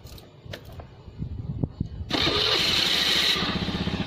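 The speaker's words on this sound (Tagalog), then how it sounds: "umandar na yung ating motor" A Honda Beat motorcycle being started after new driving-light wiring: a few faint clicks and cranking give way to a sudden, steady idle roar that carries on close by to the end.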